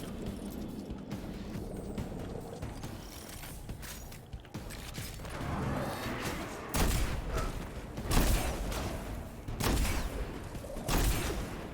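Destiny 2 gunfire in bursts of sharp shots and booms, growing denser in the second half, over a mechanical, creaking game background, moderately loud.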